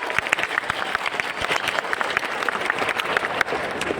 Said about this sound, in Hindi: तालियों की गगन वेदी में गड़गड़ाहट से जोरदार अभिवादन करें।